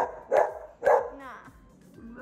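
Dogs barking outdoors at night near a pool, two loud barks in the first second, then quieter whimpering or yipping sounds afterward.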